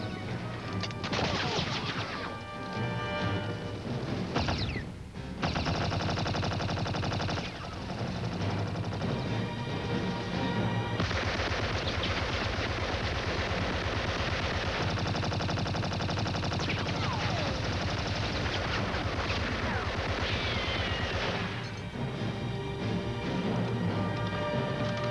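A WWI battle at the Somme in August 1916 roars with dense gunfire, rapid machine gun bursts and crashing blasts, loud and nearly continuous throughout.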